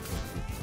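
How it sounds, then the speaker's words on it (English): An enemy is knocked through a glass window in the Spider-Man arcade video game, producing a short, loud, dense crash of breaking glass and impact that fills the whole brief moment. "Knock him through the window. Knock him through the glass."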